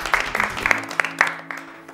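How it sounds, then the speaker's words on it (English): Studio audience applause at a school quiz show as a champion is honoured, a dense patter of clapping that fades slightly toward the end, with faint background tones. "Another round of applause."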